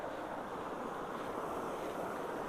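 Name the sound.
rushing floodwater swirling in a huge whirlpool by culverts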